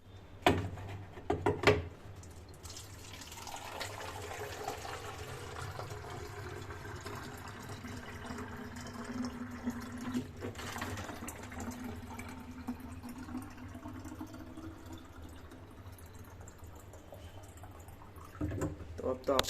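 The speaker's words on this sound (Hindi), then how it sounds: "ये सब बॉटल्स में पानी भरना होगा" Water pours into plastic bottles, making a faint, continuous gurgling fill with occasional clunks and knocks of the bottles, partly under someone talking.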